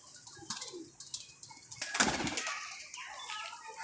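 Paired pigeons on a rooftop flap their wings in repeated bursts of fluttering, with soft flaps and a louder flurry midway, heard close amid light outdoor background.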